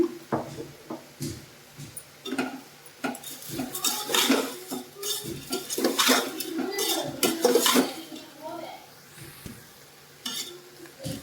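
A spoon stirs rock salt into sprouted horse gram sambar in a metal pot, with repeated scraping clinks of metal against metal, bursts of stirring and a faint simmer underneath, close and fairly loud.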